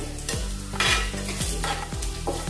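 Chana dal and urad dal roasting in oil with cumin and mustard seeds in a pan, a steady sizzle broken by repeated scraping strokes of a spoon, close and continuous, no talking.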